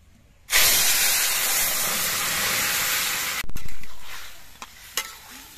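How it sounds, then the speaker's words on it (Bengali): Boiled bottle gourd drops into hot oil with fried mustard seeds and blackened chili and erupts into a loud, hissing sizzle for about three seconds. It ends with a clatter and a few quieter crackles. "এবার আমি সেদ্ধ করা লাউটা দিয়ে দিচ্ছি।"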